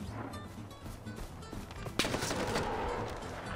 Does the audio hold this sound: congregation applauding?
no